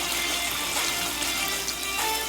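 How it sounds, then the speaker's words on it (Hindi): Water poured into a pot of deghi korma for Eid, a steady broadband splashing gush that fills the whole moment close and loud, with no talk over it. "हम इस पॉइंट पे इसके अंदर 2 कप वाटर और मज़ीद ऐड कर रहे हैं।"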